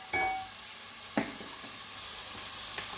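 Seasoning frying in olive oil in a pot gives a steady, close sizzle throughout, with a couple of brief knocks from stirring near the start and around the middle.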